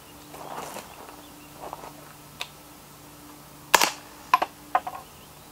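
A Spikes Brown Recluse integrally suppressed 9mm carbine fires subsonic ammunition: after quiet handling noises, a quick string of about four or five sharp, muffled pops comes close together near the end.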